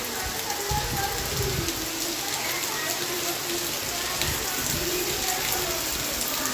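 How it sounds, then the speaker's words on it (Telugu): Steady, dense rain pours down heavily at Pampa Sarovar lake, a constant hiss with patter on surfaces, continuous and close. "చాలా వర్షం వస్తుంది ఫ్రెండ్."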